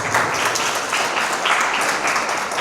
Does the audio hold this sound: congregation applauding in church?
yes